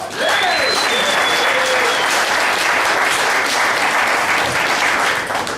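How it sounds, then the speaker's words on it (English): A poker final table audience gives a warm, sustained round of applause, steady dense clapping filling the room for several seconds, with a faint tonal whistle or cheer near the start. "a nice warm round of applause for Roland DeWolf"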